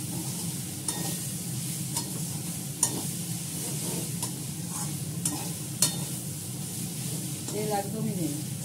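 Noodles for chow mein stir-fried in a pan with very little oil: a steady close sizzle with scraping stir strokes and occasional clinks of the utensil against the pan, carrying on throughout.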